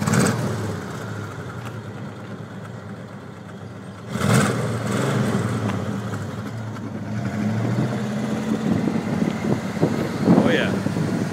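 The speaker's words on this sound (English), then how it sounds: "Go ahead, rev it up. Rev it up." A 1969 Lincoln Continental Mark III's engine idles with a low rumble, then swells as it is revved outdoors, the throaty roar rising and holding while people talk nearby.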